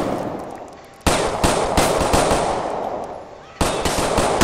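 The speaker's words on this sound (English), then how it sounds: "I shot him by mistake" Rapid, loud gunfire rings out in the LCPDFR police mod of a driving and shooting video game, with dense continuous bursts and two sharp fresh volleys breaking in close to the listener.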